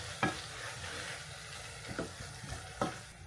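Food frying in a pan for shawarma or kebab is stirred with a few distinct scrapes of the utensil over a steady close sizzle, no one speaking.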